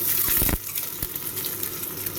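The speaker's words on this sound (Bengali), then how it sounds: "আর এখানে আমি কড়াই বসিয়ে দিয়ে তেল দিয়ে দিলাম কিছুটা পেঁয়াজ কুচি।" Chopped onion fries in oil in a wok with a continuous close sizzle, marked by a brief louder stir or scrape near the start.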